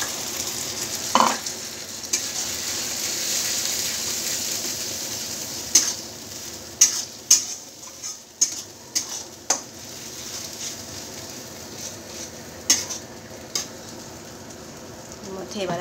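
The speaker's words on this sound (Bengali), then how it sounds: "আমার পেঁয়াজটা প্রায় ভাজা হয়ে গেছে" Onion frying in a pan with a chilli spice paste, a continuous sizzle under repeated scraping stirs and clinks of a spoon against the pan, close and clear.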